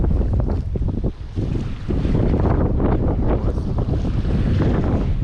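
Strong wind roars steadily, buffeting the microphone with constant low rumble, with what may be water or waves underneath throughout, during an approaching storm at Adam's Bridge, Sri Lanka.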